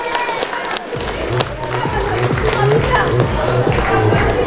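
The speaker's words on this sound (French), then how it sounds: "Applaudissez-vous, s'il vous plaît." At a cosplay event in Lampertheim, the crowd claps and cheers for itself, a busy mix of scattered hand claps and raised voices, with a person talking over the noise.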